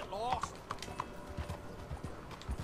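Horse hooves clip-clop at a steady walking rhythm in Red Dead Redemption 2, close and moderately quiet, with a brief whinny near the start and no talking.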